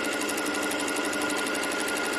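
A sewing machine stitches quickly and steadily, its needle hammering out a fast, even rhythm at close range with no pauses.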